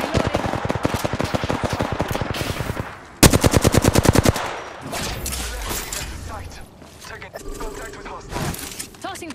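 Rapid automatic weapon fire in Apex Legends: close, loud bursts of evenly spaced shots, a dense fast string in the middle, then scattered shots, footsteps and game effects, with a voice speaking briefly.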